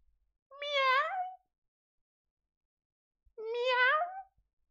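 A human voice imitates a cat, giving two drawn-out, rising-and-falling meows about three seconds apart, clear and close in an otherwise silent room.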